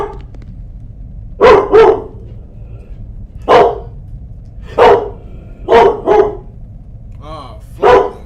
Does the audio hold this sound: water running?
no